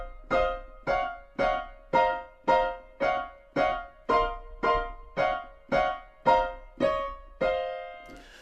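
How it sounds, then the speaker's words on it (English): Fourteen dense cluster chords of close intervals struck together repeat in an even, steady pulse, each attack loud and decaying quickly, with no voices. "So a cluster is when you take very close intervals together and smash them together into one"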